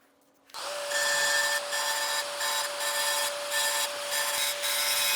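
A power grinder runs steadily on steel forge press die parts being ground down, a loud continuous whine with a high tonal hum that spins up at the start and pulses slightly as the tool bites.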